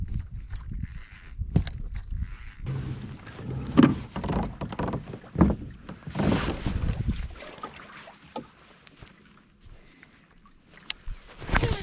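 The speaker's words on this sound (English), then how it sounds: "Wind's blowing this way, so I gotta get a good cast into the wind." Wind gusting over open water while bass fishing from a boat, a rushing, buffeting roar with microphone wind noise that swells and fades alongside occasional bumps and knocks, no talking.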